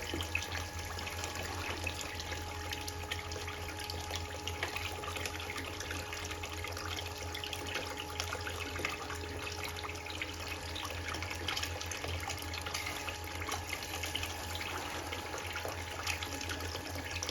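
A Gold Box gold extractor running tailings with water, giving a steady, even rush of flowing water that stays constant throughout, moderately quiet and with no talking.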